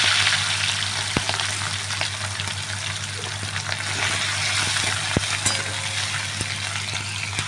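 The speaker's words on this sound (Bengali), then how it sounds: "আলাদা কড়াইতে চিংড়ি মাছটা ভাজছি।" Prawns seasoned with salt and turmeric fry in hot oil in a kadai, making a steady, close sizzle dotted with small pops and crackles.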